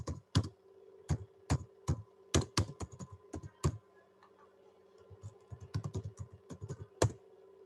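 Keys click and clack on a computer keyboard as an address is typed, coming in close, distinct bursts of keystrokes separated by short pauses, with a denser run of taps near the end.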